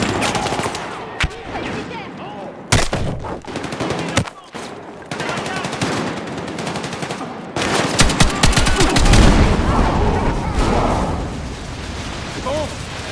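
Automatic gunfire in the video game Battlefield 6, with loud rapid bursts and single shots, several sharp blasts and sustained volleys, while voices shout over the combat.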